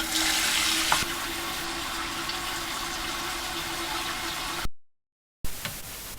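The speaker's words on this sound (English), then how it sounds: "a trickle of water continues to flow" Steady trickle of water flowing inside a leaking toilet cistern, caused by an under-tightened mounting ring on a dented ceramic base; a continuous soft wash of running water, briefly cut by a gap of silence near the end.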